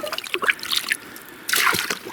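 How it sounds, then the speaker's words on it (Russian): Creek water flows out through a hole in winter ice in the taiga, a close splashing trickle that breaks off briefly and then returns as a louder gushing spill. "Вода вышла через дырку."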